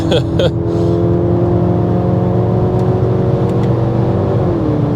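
A 2024 Mercedes-Benz E-Class (W214) engine holds a steady, loud drone on the Autobahn with a brief rise in pitch near the end, close to the microphone, with no pauses.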